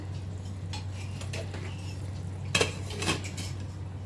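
A metal lid clanks onto a pot of flat bean (val papdi) sabji after stirring, with a couple of sharp clinks near the end following faint utensil scrapes.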